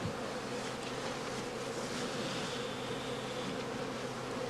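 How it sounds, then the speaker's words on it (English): Honey bees being driven from a heather skep into an empty one fill the air with a steady, dense buzzing hum, close and continuous throughout, with no voices. "The skeps are bounced rhythmically in order to drive all the bees into the empty skep."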